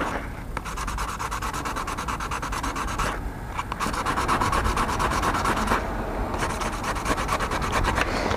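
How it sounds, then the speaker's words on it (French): Fine-grit 800–1000 sandpaper rubbed steadily over an aluminium cylinder part from a Malossi 180 kit for a Honda NSR 125, a close, continuous scratchy rasping with brief pauses and no talk. "comme c'est de l'alu au grain 800 ou 1000"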